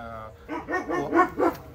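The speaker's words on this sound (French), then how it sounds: "dès qu'il y a un chien, t'as vu, qui aboie" A dog gives four quick, close barks in a row, each fairly loud and short.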